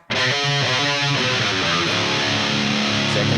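Distorted electric guitar plays a riff: loud, chugging palm-muted notes in a tight rhythm that opens into longer ringing chords, with no talking.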